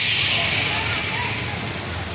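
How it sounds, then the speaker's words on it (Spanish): A heavy afternoon downpour falls over the Siloé area of Cali, Colombia, a dense, loud, steady hiss of rain that continues unbroken throughout. "Sigue el aguacero acá en la ciudad de Cali, precisamente en Siloé."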